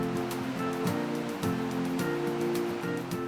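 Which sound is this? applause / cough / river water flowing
river water flowing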